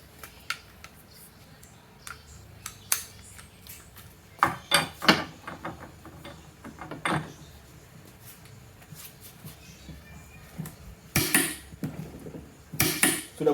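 Rapid metallic hammering bursts from a Ronix 8906K impact driver fastening at 280 Nm rattle in short spurts against a noisy workshop background, growing louder toward the end.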